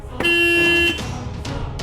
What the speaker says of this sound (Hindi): ये जो गाड़ी है ना, ये जो आ रही है, हॉर्न बजा रही है